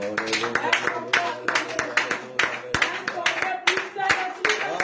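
A church congregation claps in praise of the Lord, loud, rhythmic, ringing handclaps over voices singing and calling out, with steady beats filling the whole stretch.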